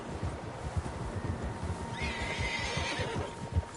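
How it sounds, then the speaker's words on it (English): Several horses in Red Dead Redemption 2 are heard close by, hooves clopping in a steady plod as a clear whinny rises midway, with no talking. "Horses, quite a few of them."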